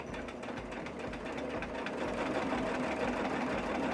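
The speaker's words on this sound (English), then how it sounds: "So if we get started and just stitch on this straight line" A sewing machine runs steadily, stitching a straight line on a pillow with a rapid, even mechanical chatter, close and continuous throughout.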